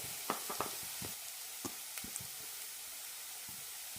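Onions sautéing with spice powders in a pan for a quick onion thoran, giving a soft, steady sizzle broken by scattered clicks and scrapes of stirring, close and fairly quiet.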